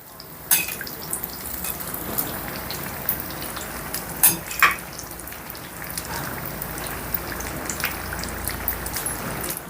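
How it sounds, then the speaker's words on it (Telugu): Potato bajji fritters fry in hot oil over a medium flame, a steady close bubbling sizzle with a few sharper pops and clinks as they are turned, with no voices. "ఇప్పుడు స్టవ్ని మీడియం ఫ్లేమ్లో పెట్టుకొని ఈ బజ్జీల్ని కిందికి పైకి ఇలా తిప్పుకుంటూ రెండు వైపులా మంచి కలర్ వచ్చేంత వరకు ఫ్రై చేసుకుందాం"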